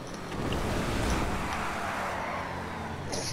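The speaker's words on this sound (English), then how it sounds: "That's a lot of skidding." Car tyres skidding in the video game GTA 5, a loud broad screeching roar that rises quickly and holds steady for a few seconds before easing off.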